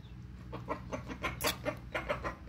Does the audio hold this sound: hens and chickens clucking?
yes